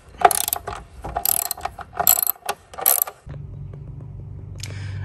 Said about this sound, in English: I can remove those 4 bolts there to remove that baffle